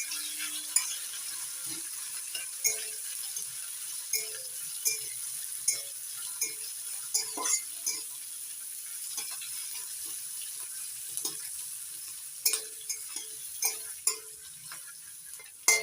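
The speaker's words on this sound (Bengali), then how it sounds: "গ্যাসের ফ্লেমটা লো টু মিডিয়ামে রেখে নাড়াচাড়া করে 2 মিনিট ভেজে নেব" Sliced onion stirred and fried on a low-medium flame, a faint steady sizzle with repeated spatula scrapes and clinks every second or so, close and quiet with no speech.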